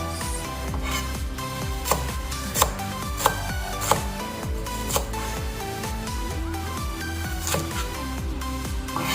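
A knife slicing a large onion on a board in a home kitchen, steady rhythmic chopping strokes with a few sharper knocks, heard over a constant background hum.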